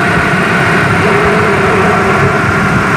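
Mitsubishi 4G64 engine idling rough with a misfire, a loud, continuous low rumble with uneven throbbing, recorded close with no talk.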